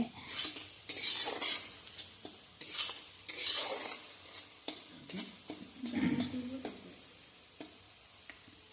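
Pasta sauce ingredients with half a teaspoon of oregano are stirred in a pan for cheesy red sauce pasta, with bursts of scraping spoon strokes over a faint sizzle, close by and with no one talking.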